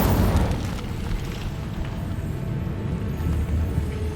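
An Incendio fire spell cast in Hogwarts Legacy, opening with a loud fiery burst that settles into a low rumbling roar, no talk over it.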